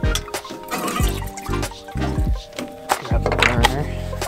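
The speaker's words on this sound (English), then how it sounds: "I'm actually gonna rinse this out anyway." Water splashing and running while a bowl is rinsed out, with intermittent bursts of pouring and clunking of the bowl, fairly close and steady throughout.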